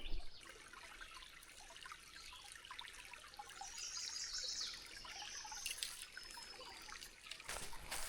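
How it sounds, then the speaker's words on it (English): A tiny spring trickles water at the headwaters of a West Virginia brook trout creek, heard as a faint, continuous light dribble, with a few brief higher rustles and a short burst near the end. "a lot of the stream is fed by teeny tiny little springs like this"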